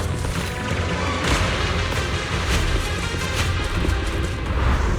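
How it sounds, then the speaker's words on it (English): Cocoon blasts in the video game Zenless Zone Zero, a dense barrage of booming explosions and crackling impacts, loud and continuous with rapid repeated hits and no talking. "Explosions are becoming more frequent."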